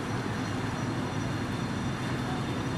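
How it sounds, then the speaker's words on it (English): A high-speed train runs on a nearby track in Beijing, a steady, moderately loud rumbling rush with no distinct beats, heard without talk. "There's the speed train across the rail from us."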